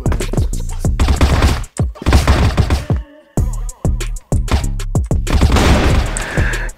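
Rapid bursts of video game gunfire, loud and close, with sharp repeated shots in clusters and a brief silent gap midway.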